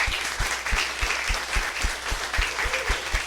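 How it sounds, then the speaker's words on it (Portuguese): Church congregation applauding after a prayer, a steady wash of many hands clapping with a loose rhythmic pulse, close and full throughout. "Uma salva de palmas"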